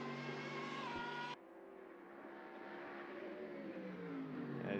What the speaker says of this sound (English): So it's one of the Hondas, I think, by the sound.